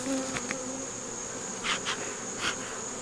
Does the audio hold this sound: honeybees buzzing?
yes